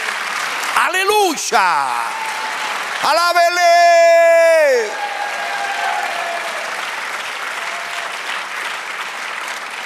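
A church congregation applauds in a long, dense wash of clapping, while a preacher's voice rings out loudly over the crowd at several points.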